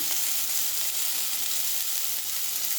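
Light frying in a pan, a steady bright sizzle of oil holding at an even level throughout with no pauses or talk.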